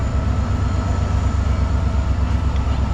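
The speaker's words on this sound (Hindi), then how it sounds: "तो आप डिपार्चर मुलाहिजा कर रहे हैं ज़रीफ शहीद रेलवे स्टेशन से।" A train pulls out of Zarif Shaheed railway station with a loud, steady rumble of wheels and engine and a rhythmic low clatter throughout, close by and without talk.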